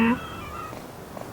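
A cat in the video game Horse Tales: Emerald Valley lets out a single short, high meow at the start, then fades into a soft ambient background.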